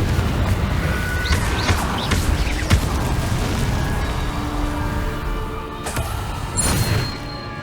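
Confringo fire spell blasts in Hogwarts Legacy, a dense booming wash of explosive crackle with sharp impacts around the start and a final burst near the end, over continuous game ambience.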